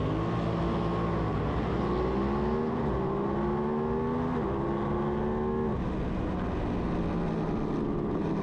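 A pack of lightweight supersport race motorcycles, including a Yamaha 700, accelerate hard off the start at Blackhawk Farms Raceway, with several engines rising through gears together, a dense layered drone of overlapping revs and shifts that stays loud throughout.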